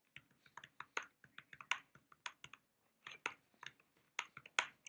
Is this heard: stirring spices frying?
no